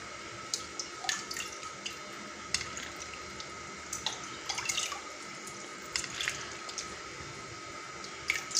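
Lemon juice, about a kilo and a half, is poured over a kilo and a half of apple olives for pickling. The liquid streams and trickles steadily for several seconds, with scattered drips and splashes.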